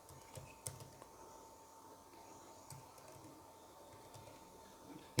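Code being typed on a computer keyboard: soft, scattered key clicks in quick uneven bursts over a faint steady hum, quiet and close with a louder tap at the very end.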